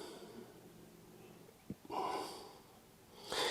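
A slow exhale during yoga practice, a soft breathy rush of air that swells after a couple of faint sniffs and returns near the end, close and quiet.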